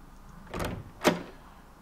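An automatic door closes in the video game The Tesla Effect: a soft sliding swish, then a sharper, brief clunk as it shuts, both close and fairly quiet, with no voices.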